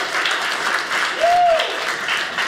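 A comedy club audience claps steadily during a stand-up set, with sustained applause filling the room and a brief vocal tone rising over it midway.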